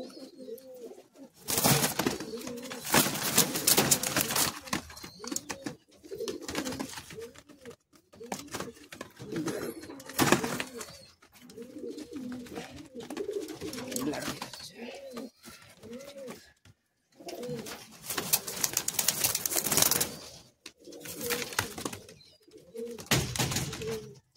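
Andhra pigeons released as a pair, cooing in repeated soft rolling phrases, close by, broken up by louder bursts of rustling or flapping noise.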